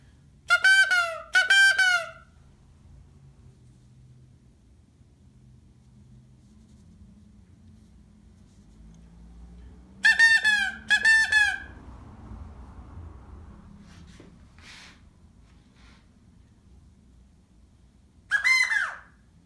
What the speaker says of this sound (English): Sounds like a sad quail.